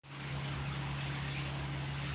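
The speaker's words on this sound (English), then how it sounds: "we'll fill up the water bottle" Steady running water flows continuously into a water bottle, a constant rushing stream with a low hum beneath, no voices.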